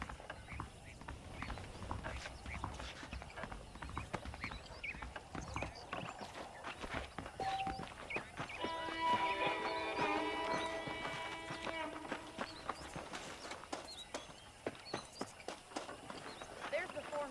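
Steady hoof clip-clop from horses at a walking pace in Red Dead Redemption, mixed with game music and ambient effects, with a voice talking over parts of it.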